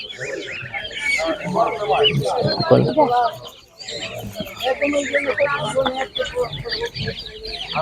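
Grey Kuban geese honk and cackle among other poultry at an animal market, with loud overlapping calls in irregular bursts close by as people talk over the din.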